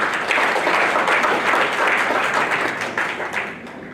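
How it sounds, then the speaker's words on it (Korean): Sustained applause from a conference audience, many hands clapping steadily for about four seconds before starting to thin out, close and full. "이한호 사무국장님께 다시 한번 뜨거운 박수 부탁드립니다"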